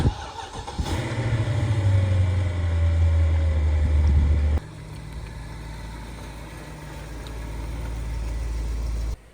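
BMW 7 Series V8 engine turning over and settling into a deep, steady rumble, then running on with a lower, even drone as the car sets off on a test drive, close and loud throughout.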